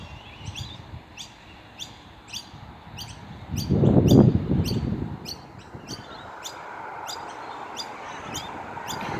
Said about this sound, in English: The birds are so loud today. You can hear them all chirping.